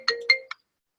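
A phone's FaceTime ringtone chimes three quick bright notes, clear and close, then falls silent.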